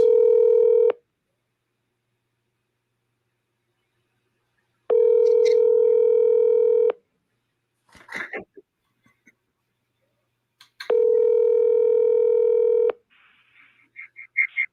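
A phone call is placed to a New York seller: three long, steady ringing tones at even intervals, separated by quiet gaps in which faint rustles and brief sounds come through.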